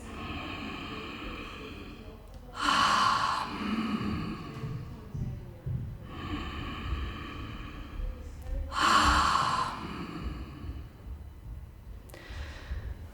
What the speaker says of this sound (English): you can then start closing your mouth halfway through the exhalation